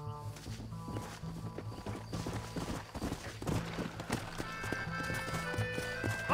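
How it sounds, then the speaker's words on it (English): Horse hooves clip-clop steadily in the Red Dead Redemption western game, a rhythmic series of close, hollow hoofbeats layered over music and ambient game sound, with occasional whinnying. "Get on your horse."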